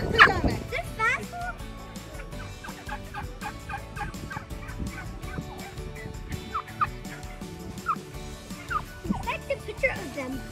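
Chickens in a farm chicken coop, clucking and squawking in bursts close by while people talk excitedly over them.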